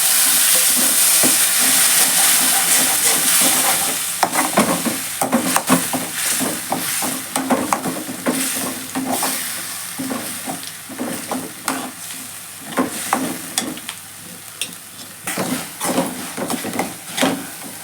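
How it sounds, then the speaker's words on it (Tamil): Chopped tomatoes fry in a pan for a vegetarian 'chicken' kulambu curry, with a steady close sizzle broken by repeated scraping and clattering as a spoon stirs them. "இப்போ தக்காளியெல்லாம் நல்லா வதங்கிடுச்சு."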